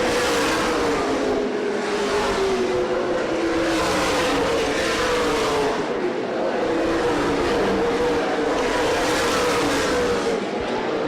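Stock cars racing at Winchester Speedway in a CRA Super Series 100, a continuous loud engine roar rising and falling in waves as the field passes, with layered motors droning throughout.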